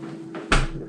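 A beer fridge door is pulled open with a single short, close thump and rattle, preceded by a soft brush of movement, in a quiet room.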